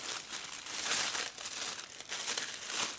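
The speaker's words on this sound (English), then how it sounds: "I prefer the old packaging because, see, this one that's how it's like peeling off." Two-layer plastic packaging being peeled apart, giving a close, continuous crinkling and tearing rustle in uneven surges with no talk.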